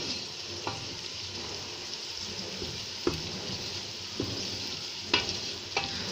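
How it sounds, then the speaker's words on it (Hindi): Raw garlic frying in a pan for urad dal (mash ki daal), a steady hiss of sizzling oil with a few soft clinks of a spoon stirring, close and alone. "हम कच्चे लहसुन को भी थोड़ा सा फ्राई करेंगे।"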